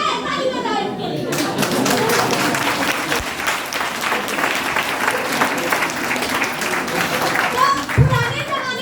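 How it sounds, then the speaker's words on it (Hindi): An audience at a gathering in Raebareli claps for about eight seconds. The applause is dense, steady and close, with a few sharper claps near the end. "ताली बजाओ इनके लिए"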